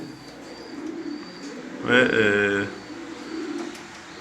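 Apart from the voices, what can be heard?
pigeons cooing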